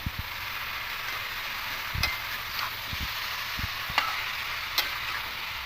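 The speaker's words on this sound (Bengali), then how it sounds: "এবার এখানে কেটে রাখা পুঁই দিয়ে দেবো পুঁই খুব ভালো করে মিশিয়ে নেবো" Chopped Malabar spinach (pui shak) is stirred in a hot pan, with a constant soft sizzle broken by several dull spatula knocks and scrapes at irregular intervals.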